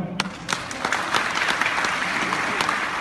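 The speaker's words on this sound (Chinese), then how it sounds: "我们掌声谢谢凯尼好不好？" An audience applauds steadily at a stroke survivors' gathering, dense clapping starting abruptly and holding at an even, fairly loud level throughout.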